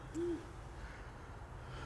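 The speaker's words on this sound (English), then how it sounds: "right where my finger is an owl just chilling" An owl gives a single soft hoot early on, faint and somewhat distant over a low rumbling background, with no voices.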